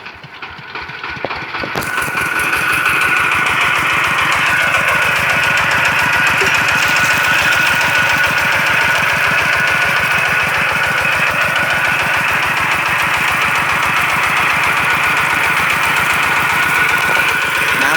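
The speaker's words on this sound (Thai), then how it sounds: "เดี๋ยวจะมีเสียงเครื่องยนต์นะครับ" A small engine starts, then runs loud and steady with a rapid chugging pulse, driving a water pump close by without pause, pumping water into a rice paddy.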